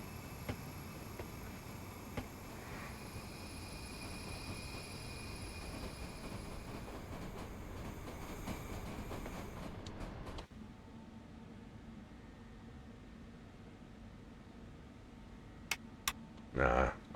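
A Pendolino train runs in the SimRail game, a steady low rolling drone of wheels and motors for about ten seconds that then drops to a quieter hum, with a few brief sharp sounds at the end.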